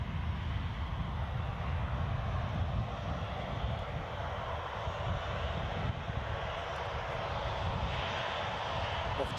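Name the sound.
Ryanair airliner moving at Edinburgh Airport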